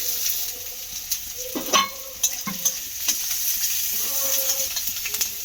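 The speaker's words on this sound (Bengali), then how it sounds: "পেঁয়াজটাকে নাড়াচাড়া করে একটু বাদামি রং হওয়া পর্যন্ত একটু ভেজে নেব।" Chopped onion fries in hot oil as it is browned for chicken patty filling. A constant close sizzle runs throughout, broken by intermittent scraping and clinking from the stirring utensil, with no voices.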